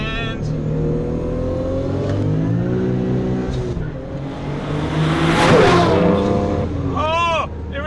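An RB26-engined Nissan Fairlady Z races hard up a straight in a close duel, engine revving and climbing loudly through the gears, with a sharp rising whine near the end and a voice talking over it.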